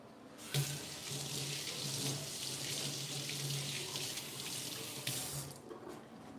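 Water from a kitchen tap runs steadily as hands are rinsed, a continuous close hiss and splash into the sink with a brief louder splash near the start and a cutoff near the end.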